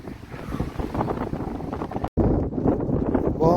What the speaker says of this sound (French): Bon, désolé pour le vent